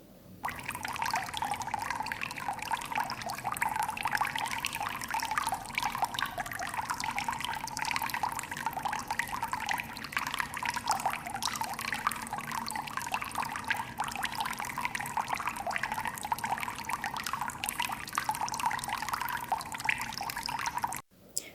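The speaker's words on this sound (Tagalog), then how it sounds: "Yung sabaw ng manok na pinaglagaan natin kanina, sasalain natin siya ngayon para matanggal yung mga rikados at tubig na lang ang matitira." Boiled chicken broth is strained through a sieve, pouring in a steady continuous splashing stream from start to finish, close and fairly loud.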